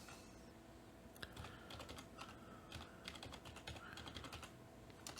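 Computer keyboard typing heard faintly in short, irregular bursts of light key clicks while a network address is entered during a server configuration.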